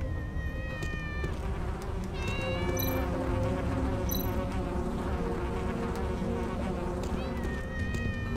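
Cat meows from the video game Tales of the Neon Sea, several short tonal cries scattered over steady droning game ambience and buzzing insect-like noise.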